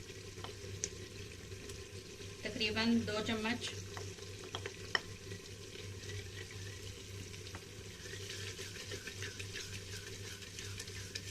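Garlic-ginger paste sizzles and fries in a clay pot for mutton kunna gosht, with a burst of stirring scrapes early on over a continuous crackle; a voice speaks briefly.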